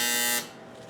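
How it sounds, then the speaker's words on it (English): A kitchen timer buzzer sounds during homemade pasta making, a harsh steady electronic buzz that cuts off sharply after about half a second and leaves a quiet room. "Timer."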